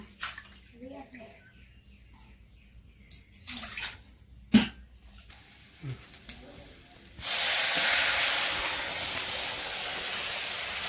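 A tempering of spices bursts into a loud, steady hiss as it is poured into a thankuni (pennywort) leaf curry, sustaining for several seconds after a stretch of quieter kitchen clatter and faint talk.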